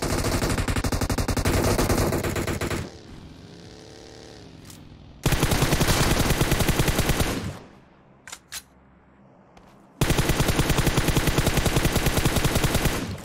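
Automatic gunfire in the mobile shooter PUBG Mobile: three long, loud stretches of rapid, evenly spaced shots, separated by quieter gaps that hold a few isolated cracks.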